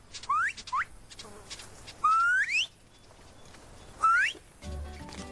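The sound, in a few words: man whistling to call a honeyguide bird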